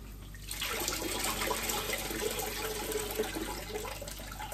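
Water running and draining off soaked food after rinsing out the salt, a steady continuous splashing flow like a tap or sink draining, starting after a brief quiet moment and continuing moderately loud throughout.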